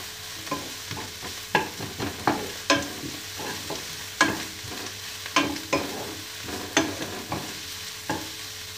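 Spaghetti frying and being stirred in teriyaki sauce in a pan, a steady close sizzle punctuated by repeated sharp scrapes and clacks of the utensil at irregular intervals, with no talking.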